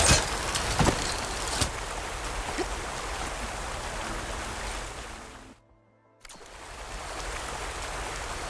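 A waterfall in the video game Horizon Forbidden West gives a steady, dense rush of pouring water that cuts to near silence for about half a second before resuming.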